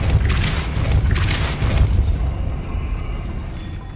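A Depulso spell blast in Hogwarts Legacy gameplay lands as a heavy, booming burst with a deep low rumble, then a second surge before fading into a lingering roar.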